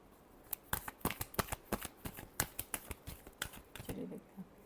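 Tarot cards being shuffled by hand, giving a quick irregular run of crisp, close riffling snaps and flicks that is fairly quiet, with no talking.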